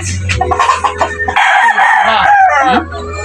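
A gamefowl rooster crows loudly and close by, a drawn-out call following some short clucking.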